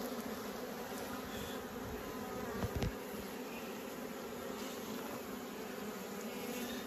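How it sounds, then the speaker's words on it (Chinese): Bees swarm around a wild honey nest dug into the ground on a hillside, a continuous dense buzz close by with a brief knock partway through and no talking. "哎呀，有这些蜜蜂的。"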